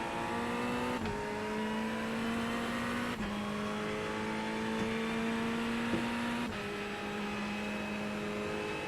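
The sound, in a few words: Ferrari race car engine in iRacing video game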